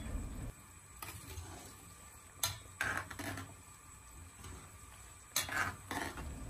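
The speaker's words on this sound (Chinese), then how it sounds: "我们用勺子给它轻轻的搅动几下，让它受热均匀。" A spoon stirring carrots and celery as they blanch in a pot of water, giving a few separate scraping clinks against the pot over a soft bubbling background, with no voices.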